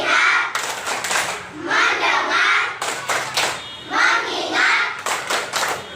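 Children in a classroom chant a 'tepuk fokus' clapping routine, their voices rising and falling in rhythmic phrases while hand claps and light thumps punctuate the chant close by.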